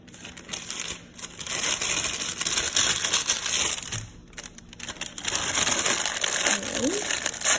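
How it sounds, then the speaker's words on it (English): A plastic piping bag crinkling and rustling as stiff icing is spooned into it, held open in a drinking glass, a close, continuous crackle with a short lull partway through. "So I'm gonna bag it up, and I just use like a drinking glass."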